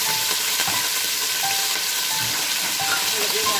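Meat added to a pot for an all-in-one pasta dish gives a loud, dense, steady sizzle and crackle of frying that fills the whole moment without pause, no voices.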